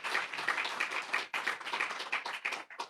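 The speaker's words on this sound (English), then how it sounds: "Okay, you're still clapping, you're still awake." Audience at a presentation on the Namibian economy claps, a moderate patter of individual hand claps with small dips, fairly close and without talk.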